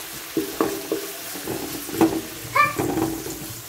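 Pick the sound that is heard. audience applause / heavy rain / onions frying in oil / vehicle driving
onions frying in oil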